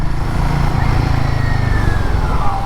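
A Royal Enfield Guerrilla 450 motorcycle rides off-road, its single-cylinder engine giving a steady, low, throbbing drone close by with no talk over it.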